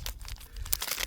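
Wrapper of a Nature Valley Crunchy oats and honey bar crinkling and rustling up close outdoors on a cliff walk, a brief burst of dense crackly handling noise.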